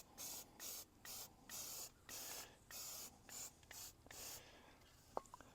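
Repeated short bursts of Rust-Oleum paint-and-primer spray hiss from an aerosol can onto an aluminum solar panel mount for a wedge-top camper, about ten rhythmic blasts close by with brief pauses and faint clicks between them.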